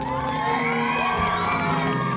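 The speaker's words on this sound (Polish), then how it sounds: "Jeszcze raz ogromne brawa dla dziewczyn." Crowd cheering and shouting for a group of girls after their performance at a town-day celebration, with high excited voices and whoops forming a loud, continuous roar.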